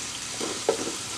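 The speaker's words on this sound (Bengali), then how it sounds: "এবার ভালো করে পেঁয়াজটা ভেজে নিব" Onions fry in oil in a pot for pulao, a soft, steady sizzle with a brief stirring scrape partway through, close and fairly quiet.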